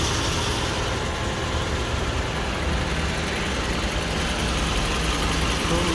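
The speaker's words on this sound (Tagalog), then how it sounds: "The engine is running, as you see" A truck's diesel engine idles steadily on a refrigeration unit, with the compressor clutch disengaged and the compressor not running; a constant low rumble holds at an even level throughout, close by, with no talk.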